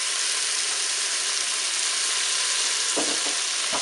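Button mushrooms and carrot pieces fry in a Cookeo pot, giving a loud, constant close sizzle, with a few clattering stirs near the end.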